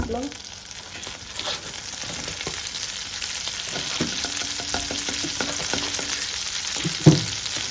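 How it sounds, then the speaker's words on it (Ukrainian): Butter sizzles and hisses steadily in a hot frying pan, with occasional soft pops and a clink near the end. "Сковорідка знову нагріта. Кидаємо сюди вершкове масло."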